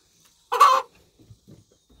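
A single short, loud cluck from a chicken, followed by a few faint low scratching or shuffling sounds nearby.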